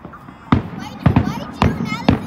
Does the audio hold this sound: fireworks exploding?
yes